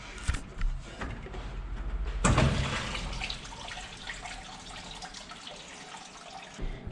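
Coolant trickling and splashing from a detached lower radiator hose on a 1967 Ford Mustang with a 289 Ford V8, a steady close liquid pour with a brief louder gush early on and no talking.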